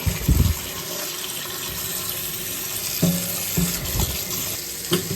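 Water runs steadily into a sink, a continuous splashing rush with a few louder knocks and clunks near the start and end.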